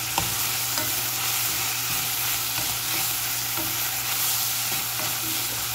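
Vegetables frying in a pan for a mushroom sauté, a steady close broadband sizzle with scattered clicks and scrapes of stirring, no voices.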